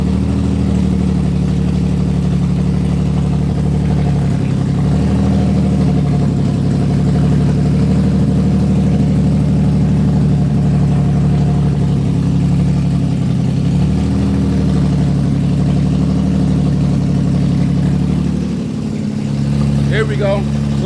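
An Infiniti G35 engine idles steadily and loudly close by for the whole stretch, a constant low rumble with slight fluctuations, while people talk over it.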